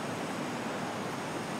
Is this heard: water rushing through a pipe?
yes